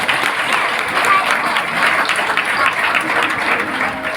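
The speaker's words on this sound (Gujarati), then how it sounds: "આપણે તાળીઓ પાડો ને" An audience at a devotional singing gathering claps in a steady, dense, continuous wash of applause, fairly loud and sustained throughout.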